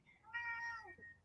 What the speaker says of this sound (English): My cat's complaining.